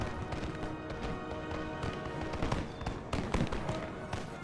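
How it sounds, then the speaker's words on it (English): Musket volleys crackle across a Total War: Empire battlefield on a hillside, a dense, continuous patter of distant shots with sharper bursts near the end, all under a busy, steady battle din. "Our men are fighting, shooting into the enemy over here on this little hillside."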